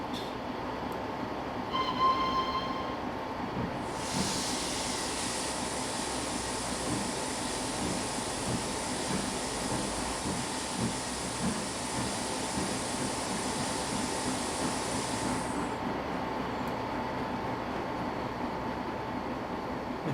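A narrow gauge train on the Ducken Railway in the Trainz railway simulator rumbles along steadily, its wheels and running noise filling the whole stretch, with a brighter high hiss joining for much of the middle.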